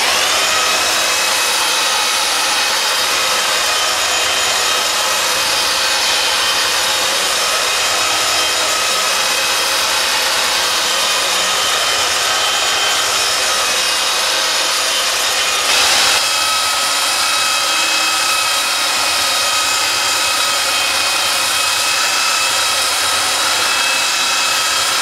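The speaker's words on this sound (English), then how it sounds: "I'm gonna do a quick sand in the bottom of here just to smooth everything out." A power sander smooths wood inside a TV lift cabinet being built for a 5th wheel camper, giving a steady, loud whirring hiss that runs almost the whole time with a brief dip near the middle.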